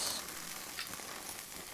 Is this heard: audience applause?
no